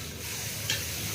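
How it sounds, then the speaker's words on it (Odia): Red radish frying in a pan with no onion or garlic, giving a steady soft sizzle with light stirring scrapes and one brief clink. "ଏଇଟା ଦେଖନ୍ତୁ ଆମର ମୂଳା ଭଜା ହେଉଛି, ନାଲି ମୂଳା।"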